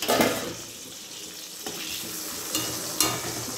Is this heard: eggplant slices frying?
yes